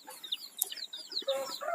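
Young chicks in a poultry house under a brooder lamp give quick, high, overlapping peeps and chirps, faint and busy throughout the short stretch.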